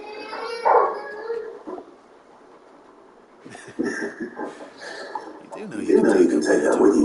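A large dog companion in Final Fantasy XVI vocalizes with howling, whining calls mixed with game sounds, while people talk over it.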